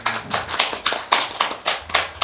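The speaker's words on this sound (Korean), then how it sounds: "야, 박수 한번 쳐주세요" Church congregation clapping during a Sunday worship service: a quick, fairly loud burst of hand claps in an uneven rhythm, close by, with no talking.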